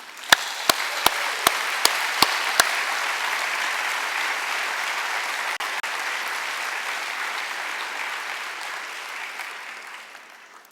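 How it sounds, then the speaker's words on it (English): A big round of applause from the audience at a general assembly, opening with a few loud, sharp claps near the microphone, then a broad sustained wash of crowd clapping that fades slowly toward the end. "I think we owe him a big round of applause and a huge thank you"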